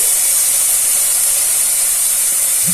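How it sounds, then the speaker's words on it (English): White sesame seeds (til) dry roast in a hot pan, making a loud, steady, bright hiss that holds constant throughout, with no popping or voices. "The pan is hot, so I'm just going to dry roast the white til."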